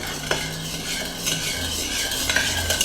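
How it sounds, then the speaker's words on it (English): A soy sauce marinade for spam musubi is mixed in a bowl: a close, continuous swishing stir with occasional light clinks of a utensil against the dish, with no talk. "with 1/2 cup of soy sauce. Mix that up."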